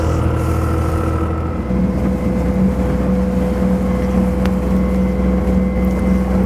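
A Sirius 310 DS sailing yacht motors forward under its engine into a windy bay, a steady close drone with a deep rumble and a constant low tone, wind noise over it and no talk.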